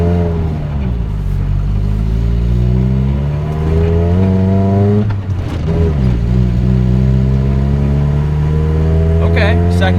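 A Nissan 720 4x4 pickup accelerating on a rough driveway, its engine loud and close, pitch climbing through the gears with a brief drop at a shift around the midpoint, under a steady rumble.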